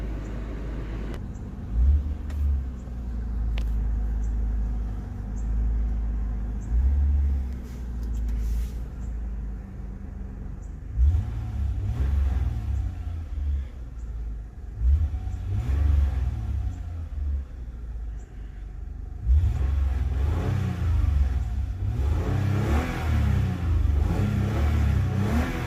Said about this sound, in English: So, let's go ahead and get a few revs.